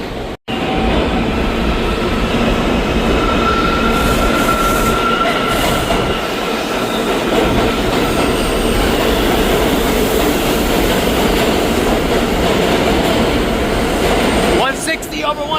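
A New York subway F train runs with a loud, continuous rumble and rattle of the wheels. A faint squealing tone rises through it, and noise shifts near the end.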